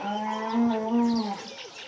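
A cow in a Rwandan village moos once in a long, drawn-out low call, close by, fading out toward the end over faint background noise.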